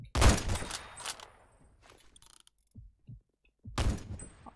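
Gunfire in the Roblox game Phantom Forces, with a close burst of rapid shots at the start, sparse mechanical clicks and handling noises in the middle, then another sharp burst near the end.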